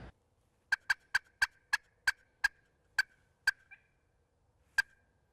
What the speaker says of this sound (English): sure enough, out come the turkeys